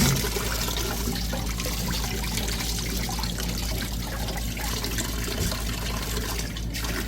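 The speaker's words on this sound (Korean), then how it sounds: "이렇게 꼬들꼬들 말린 거를 음, 물에 한번 씻어서 물기를 좀 빼줍니다" Dried eggplant pieces are rinsed in water and drained, a continuous close trickle and splash of running water with faint handling noise and no talk.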